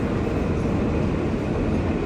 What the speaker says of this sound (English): Here is the train that will take us down to Brighton.